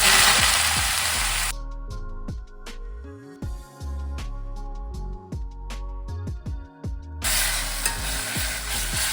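Lofa greens stir-fried in a hot pan for an Assamese meal: a loud wet sizzle surges, then drops to rhythmic scraping and tapping of a spatula with scattered clinks before the hiss swells again.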